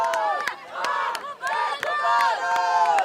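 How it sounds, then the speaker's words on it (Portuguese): Spectators at an amateur football match yelling and shouting in repeated loud bursts, several voices overlapping in short rising cries with brief gaps between them. "Nas peladas e nos jogos amadores, a torcida também solta o gogó e não alivia na pressão."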